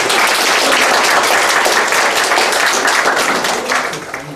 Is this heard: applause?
yes